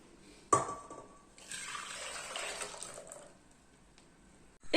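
Cream mixture for a homemade strawberry tart poured back into a saucepan, a short clatter followed by a soft, steady liquid pour lasting a couple of seconds, quiet and close, ending with a faint knock.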